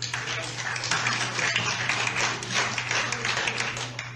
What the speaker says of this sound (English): Please respect the committee. Do not applaud.